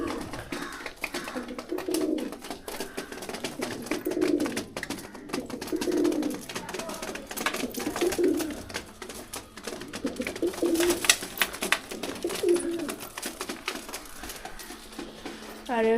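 Two pigeons kept in a coop coo softly in repeated low, throaty phrases close by, with a rustling, pattering backdrop and no clear talk.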